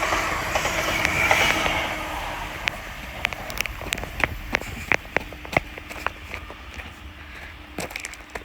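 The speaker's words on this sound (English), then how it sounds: "There is the London Northwestern Railway service from Birmingham New Street to London Euston, about to pass by." A London Northwestern Railway Class 350 passenger train on the West Coast Main Line at Kingsthorpe passes with a rushing roar and a steady series of sharp clickety-clack wheel knocks over the rail joints, fading as it goes.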